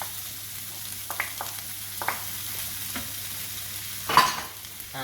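Sweet corn and butter beans being stirred through in a hot pan, a steady soft sizzle with several scraping utensil strokes and a louder clatter near the end, no talking.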